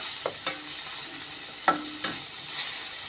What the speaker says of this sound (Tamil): ஒரு ரெண்டு நிமிஷம் நல்லா ஃப்ரை பண்ணி விட்டுக்கோங்க